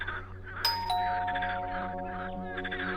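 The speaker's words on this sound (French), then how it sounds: "J'entends alors quelqu'un sonner à la porte." A doorbell chimes a clear two-note ding-dong, and the tones ring on and fade while frogs keep croaking softly in the background.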